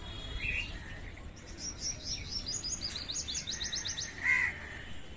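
Small birds chirping on a rooftop, a run of quick bright tweets and trills with a louder sharp call near the end, over a low background rumble and no talking.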